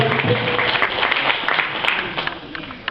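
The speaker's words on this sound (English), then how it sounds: "Give it an applause." An audience at a Kyani Super Saturday event applauds steadily for a few seconds, a continuous wash of clapping at moderate loudness that tapers slightly toward the end.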